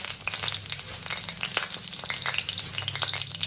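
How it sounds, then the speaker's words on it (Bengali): Dried red chillies crackle and spit in hot mustard oil, a dense continuous frying hiss dotted with sharp pops, close and loud with no talking. "শুকনো লঙ্কা দিলাম একটু ফাট করে"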